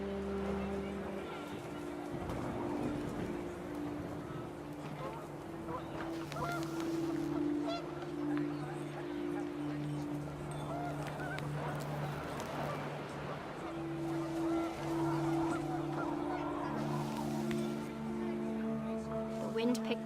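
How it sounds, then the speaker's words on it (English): Panicked geese honk in gusting wind in the video game What Remains of Edith Finch, a steady layered honking over a constant windy backdrop for the whole stretch, with a few louder bursts. "The wind picked up and panicked geese appeared and quickly went."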